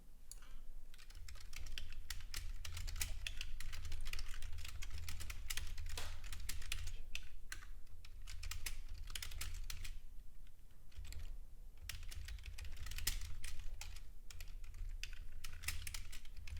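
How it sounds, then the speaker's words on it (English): Rapid clicking of a computer keyboard in bursts, with short pauses between runs of keystrokes, close and clear over a low steady hum. "Yes, you hear me typing."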